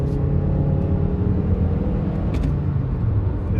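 A 2009 Honda Accord cruises with a steady engine drone and road rumble heard from inside the cabin, fairly loud and even, with a brief light rattle partway through and no one speaking.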